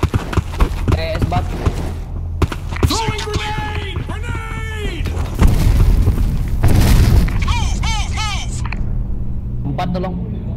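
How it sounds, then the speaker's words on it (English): A grenade goes off in the Black Squad shooter during a clan war, a deep booming rumble around the middle amid clicks, shots and radio-style game voice lines, with squad chatter throughout. "Throwing grenade! Grenade!"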